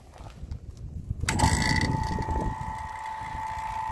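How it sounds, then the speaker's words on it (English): A vacuum pump on a mini split line starts up partway through with an abrupt jump in level, then settles into a steady, fairly loud droning whine with a constant tone, heard close and without talk. "So I'm going to go ahead and turn this vacuum pump on."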